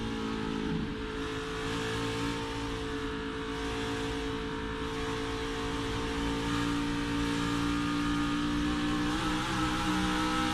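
Onboard a Toyota NASCAR Xfinity race car at Darlington on worn tires, the engine drones continuously and loudly, its pitch rising and falling slightly as the throttle is worked through the corner.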